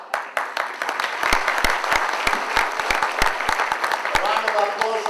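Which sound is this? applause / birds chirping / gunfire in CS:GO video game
applause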